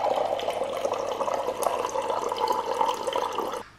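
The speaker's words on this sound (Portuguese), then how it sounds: "Agora vim aqui buscar um copinho d'água." Water pours from a tap into a glass in a home kitchen, a steady splashing trickle lasting a few seconds before cutting off, with no voices over it.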